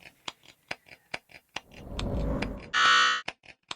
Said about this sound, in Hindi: तो टीम लूक ने पहला बजर दबाया है।